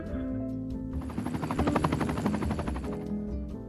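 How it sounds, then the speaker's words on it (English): A police helicopter in the city-building game Cities Skylines 2 passes overhead with a steady, rapid rotor thumping that swells in the middle and fades slightly, alone without talk. "I hear a helicopter, police helicopter."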